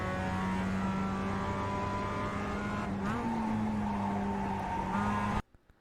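A Mazda Miata race car in the iRacing sim on the Charlotte Roval brakes into a corner: a steady, loud engine drone drops pitch through a downshift, with faint tire scrub, before the sound cuts off abruptly.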